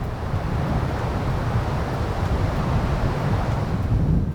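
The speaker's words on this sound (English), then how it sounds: "It's so windy that all I can hear is the leaves and the branches." Strong wind roaring outdoors through leaves and branches, a constant dense rushing noise with heavy low buffeting, loud and unbroken throughout.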